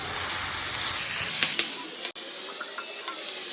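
Fenugreek leaves frying in a pan with onions and moong dal give a steady close sizzle throughout, with a brief stir or clatter near the middle.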